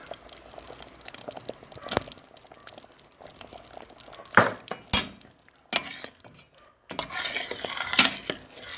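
Paneer cubes dropped into a pan of cooked spinach, heard as soft thuds, scraping and clinks of a utensil against the pan, with a busier stirring rustle near the end; no talking.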